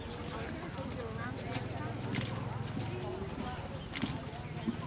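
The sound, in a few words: horse hooves clip-clopping during dressage warm-up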